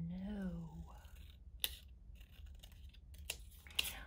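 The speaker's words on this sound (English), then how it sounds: "When I'm cutting, trying to cut straight, I think it's helpful to use those big scissors." Big scissors cut through paper in a few crisp snips, close and quiet, after a brief voice at the start.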